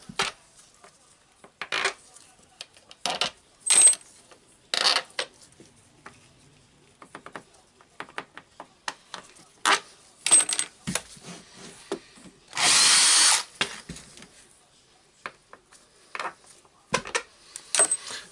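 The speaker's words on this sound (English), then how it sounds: "Just getting the screws out." A power driver backs screws out of a Hilti TE905-AVR breaker housing in short separate whirring bursts, with clicks and handling noises between them, close and without talk.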